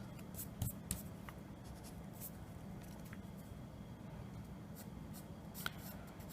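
A pencil draws lines on paper for a figure sketch. Quiet scratchy strokes come in short bursts over a low hum.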